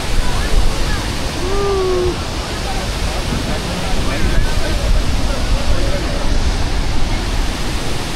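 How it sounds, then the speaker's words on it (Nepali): A waterfall on a trek in Mustang roars as a steady, broadband rush of falling water, continuous and loud throughout, with faint voices and some wind buffeting the microphone underneath. "यहाँ देख्न सक्नुहुन्छ झरना यस्तो खतरा छ"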